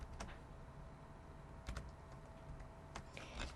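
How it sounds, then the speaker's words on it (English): Quiet keystrokes on a computer keyboard as a code is entered for a Silhouette Cameo, a few scattered clicks, some in quick pairs, spread over a faint, steady background. "So I'm going to type my code in here that came with my machine."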